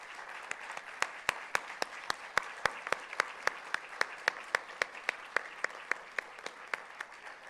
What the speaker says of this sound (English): Let's applaud her for her steadfast loyalty to the institution.